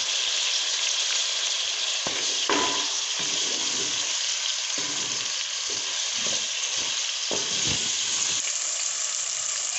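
Ginger garlic paste fries in hot oil as tomatoes and green chilies go in, giving a loud continuous sizzle with a few stirring scrapes and clatters partway through, no voices.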